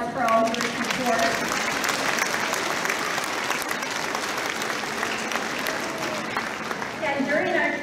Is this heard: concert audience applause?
yes